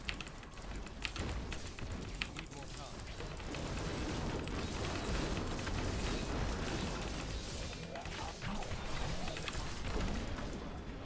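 A steady barrage of magical blasts from a Wizard in Archon form in Diablo 3 roars continuously, layered crackling explosions and bursts piling on top of one another at a loud, sustained level.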